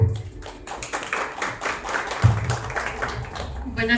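Audience at a gastrocultural reading circle in Puebla applauding in a steady, fairly loud round of mixed clapping, with voices murmuring underneath throughout.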